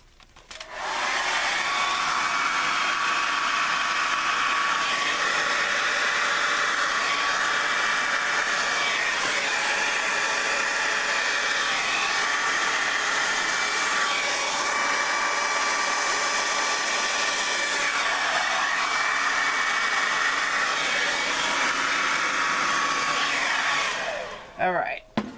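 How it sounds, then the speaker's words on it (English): A hair dryer blow-drying wet paint on a 20x20 canvas runs loud and steady for about 25 seconds, whirring continuously before cutting off at the end, with no talk over it. "let's blow dry this."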